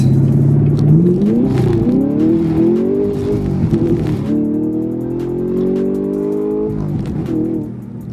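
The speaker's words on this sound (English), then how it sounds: "I'm gonna do a no lift shift right now" A Ford Mustang with a manual gearbox and cold tires revs hard in first, then its engine note drops briefly and climbs again on a flat-foot, no-lift shift into second. The loud, close, continuous roar continues to rise with no talk.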